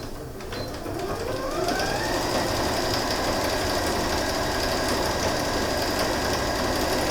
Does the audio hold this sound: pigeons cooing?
no